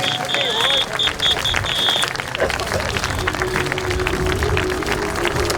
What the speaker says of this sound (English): Let's hear a big round of applause for the Scunthorpe Scorpions and the Plymouth Gladiators.